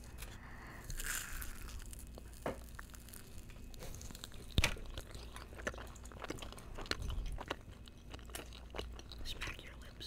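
Gummy sushi candy is chewed up close, with soft wet mouth sounds, occasional lip smacks and faint crinkling, quiet throughout.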